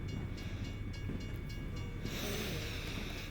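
A train rolls slowly past in American Truck Simulator, a steady low rumble with faint rhythmic clunks of passing cars and a brighter hiss swelling near the end, heard alone at moderate distance.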